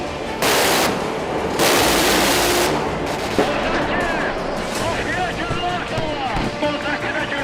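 Gunfire from tanks and cannons during the January 1990 attack, as staged for a documentary film: sustained bursts of heavy shooting and rumbling blasts, loud at first and then continuing under a narrator's voice.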